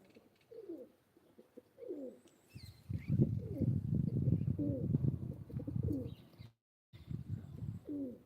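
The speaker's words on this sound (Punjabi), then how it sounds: "ਇਹ ਉਹ ਕਬੂਤਰ ਬੈਠਾ" A pigeon coos in soft repeated phrases, joined by a low rumbling murmur of more cooing and faint chirps, close by and fairly quiet.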